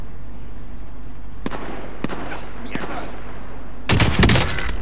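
Gunfire in a video game: three sharp single shots spaced about half a second apart, then a loud dense burst of rapid shots near the end, over a constant background hiss.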